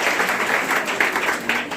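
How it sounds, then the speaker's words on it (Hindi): Audience clapping at a school Teacher's Day programme put on by a Class 11 group, a steady crowd applause with a few louder bursts, no talking over it. "एक बार जोरदार तालियां बजा दे।"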